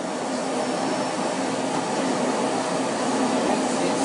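Hoover vacuum cleaner running indoors, a loud, steady whooshing roar that holds constant from start to finish with no talk over it.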